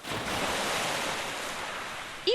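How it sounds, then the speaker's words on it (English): Waves rolling and crashing against a lakeshore in the video game Cafe Enchante, a steady broad wash of surf that holds at the same loudness throughout, with a short sharp swell right at the end. "Waves began to crash, rippling through the immediate vicinity."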